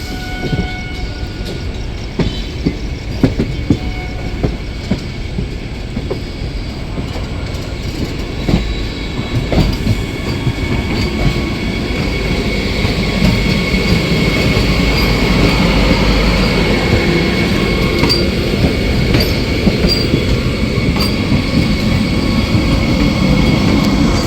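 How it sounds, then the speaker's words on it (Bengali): The Howrah–Puri Vande Bharat Express passes close by, with a loud, sustained rush and rumble of rail wheels that builds and broadens over the pass, punctuated by faint clicking from the track joints. "এটা হচ্ছে হাওড়া পুরী, পুরী হাওড়া বন্দে ভারত এক্সপ্রেস যাচ্ছে মানে কাশশেডে।"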